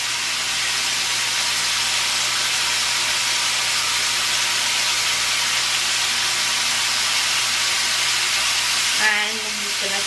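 Shrimp sear in a hot pot for a one-pot BBQ shrimp dish, giving a loud, steady sizzle and hiss that runs unbroken, with a brief clink near the end.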